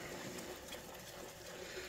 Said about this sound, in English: we'll just keep that bubbling away, and we want that to thicken up nicely